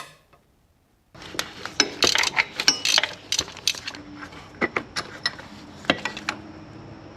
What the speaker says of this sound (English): So let's take the actual alternator bolt off and this thing should come out.